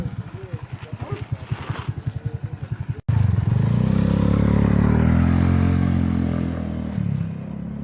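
A motorcycle engine thumps in a fast rhythmic idle, then the throttle opens wide into a loud, sustained roaring rev that holds and slowly eases off near the end.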